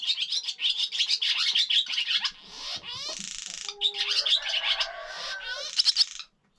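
A male swallow sings near a nest under construction: a fast, continuous twittering warble of chirps, buzzy trills and rasping notes, close and clear with a brief lull in the middle.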